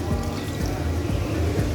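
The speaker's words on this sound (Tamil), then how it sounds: "பால் கறி, அதுக்காக இந்த தண்ணி பாலை சேர்த்துக்குவோம்." Thin milk poured into a cuttlefish curry in a pot, a steady liquid trickle and splash running through the whole short moment at close range.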